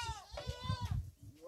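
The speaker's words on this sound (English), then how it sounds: "So, this is where all the goats stay." Goats at a farm in Zambia bleat in a run of short, wavering calls, several overlapping and fairly close, filling the clip with no talk over them.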